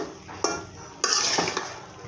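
A vegetable bhaji of eggplant and potato with chopped coriander and fried dried chillies is stirred in a pan, giving two sharp utensil scrapes over a soft background sizzle, close by.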